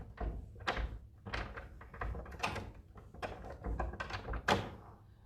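A restored rosewood cabinet with a bird's eye maple interior and many drawers is opened, giving a series of close wooden knocks, thunks and sliding bumps in an irregular rhythm.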